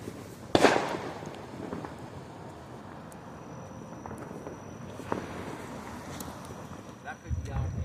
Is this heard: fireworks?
yes